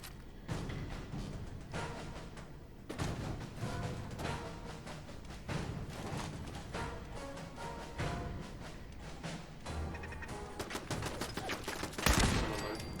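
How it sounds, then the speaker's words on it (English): Sustained gunfire from an automated turret in the post-apocalyptic game Fallout 4, a steady rattling fusillade of rapid shots running nearly the whole time, with one sharper, louder burst near the end. "That's a very inaccurate turret."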